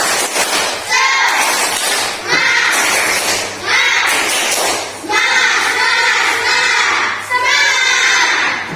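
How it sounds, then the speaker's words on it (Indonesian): Schoolchildren in an Indonesian classroom do a spirit clapping chant, loud rhythmic group clapping in repeated bursts mixed with shouted chanting, close and filling the room. "Tepuk semangat."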